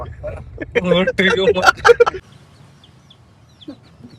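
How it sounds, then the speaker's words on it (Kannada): A chicken clucks up close in a quick burst of calls lasting about a second, followed by near silence. "ಚಂದ್ರು, ಇವಾಗ ಕೋಳಿ ಏತ್ಬಿಟ್ರೆ ಏನ್ ಮಾಡ್ತೀಯ?"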